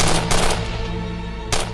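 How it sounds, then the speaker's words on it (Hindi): Gunfire in an Urdu-language action drama: loud bursts of rapid machine-gun-style shots, with sharp volleys at the start, around a third of a second in and again near the end, and no talk. "गोलियां चलने की आवाज आ रही है।"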